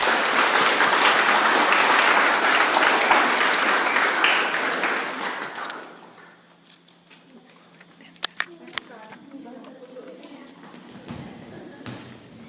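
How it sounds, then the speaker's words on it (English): An audience at a primary school end-of-year presentation day claps loudly and steadily for several seconds before the applause dies away into a quieter room with a few stray sounds. "And one last big clap for the Parrots."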